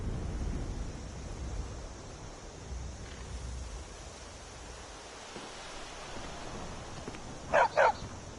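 Two quick, close barks from a dog in Skyrim sound near the end, rising over a steady low ambient background with no talking.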